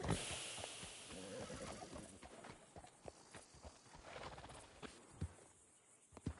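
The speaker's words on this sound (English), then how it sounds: "That's a fine steed." A horse in Red Dead Redemption 2 gives a faint neigh amid soft hoof clip-clops and scattered ambient noise, fairly quiet throughout.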